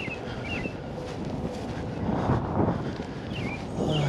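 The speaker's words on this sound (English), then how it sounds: "she's still ripping that wind pretty good" Strong wind gusts buffet the microphone while fishing from a boat on the water, a steady roaring rush that swells louder toward the end, with no one speaking.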